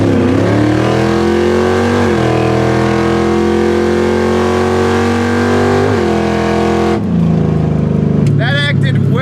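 A $3,500 drag car engine with its old carburetor refitted revs hard and close, rising and falling through several pulls, then drops away near the end as a voice briefly talks over it.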